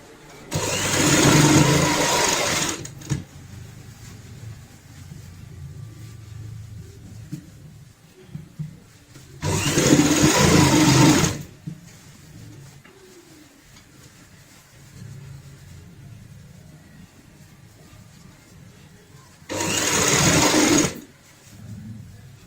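A sewing machine stitches a fabric hand purse in three loud bursts of rapid whirring, each about two seconds long, separated by quieter pauses of handling at home.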